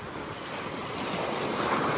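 Sea waves wash onto a beach in steady, continuous surf mixed with wind noise on the microphone, a broad rushing roar that swells slightly toward the end, with no voices.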